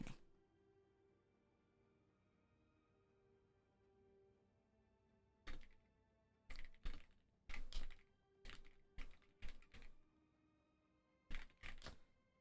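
Keys clack on a computer keyboard in bursts of quick, close taps separated by short pauses, heard over a faint steady background hum with no talking.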